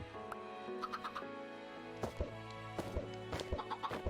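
Minecraft chickens cluck in short, scattered bursts, faint under steady background game music, with no talking.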